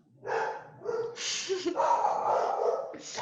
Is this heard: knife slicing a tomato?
no